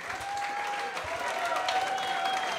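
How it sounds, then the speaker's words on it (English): Audience at a Moth storytelling show applauding the next storyteller, a steady wash of clapping heard from within the room with a host's voice over it. "big round of applause for Jennifer"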